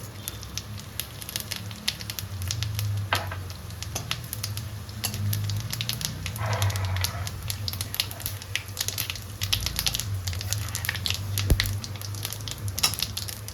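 Three dry red chillies and whole cumin hit hot oil left from frying prawns, giving a steady, close crackling sizzle with scattered sharper pops throughout.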